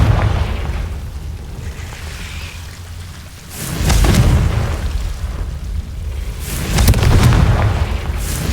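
Confringo fire spells in Hogwarts Legacy burst as two heavy, booming explosions, each rumbling and crackling for a few seconds over a low ambient background.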